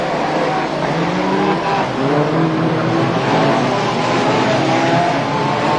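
BriSCA F2 stock cars racing on an oval at Crewe, a pack of engines roaring at once with overlapping revving tones, loud and sustained, with faint tire noise.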